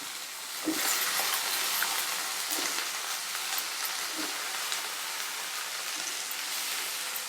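Four large brinjals fry in oil with onions and green chillies in a steady, close sizzle, with a few soft thumps as pieces are moved around the pan.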